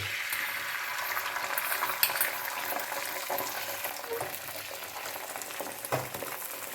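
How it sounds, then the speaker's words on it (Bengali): An egg poured into hot oil in a frying pan for an egg roll, a steady broadband sizzle and crackle running throughout with a few sharper pops, moderately loud and close, no talking. "তেল গরম হয়ে গেছে এইবারে ডিম ঢেলে দিচ্ছে"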